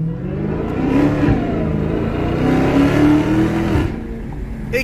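A Dodge Challenger Hellcat accelerating hard, its loud engine roar climbing steadily in pitch for several seconds before easing off near the end, heard close and without talking.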